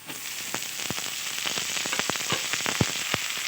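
Dima greens hit fried chopped onion and dried red chillies in a hot pan, giving a steady sizzle. Sharp pops and crackles break through it at irregular intervals, close and moderately loud, with no voices.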